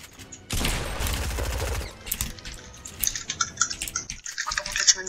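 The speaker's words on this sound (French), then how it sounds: "je t'ai mis pas mal de dégâts avec la balle de pompe et la PM là" Shotgun and SMG fire in a Fortnite one-versus-one fight, a loud sustained burst of rapid shots up front followed by sparser sharp cracks and clicky hits, close and punchy with no talk.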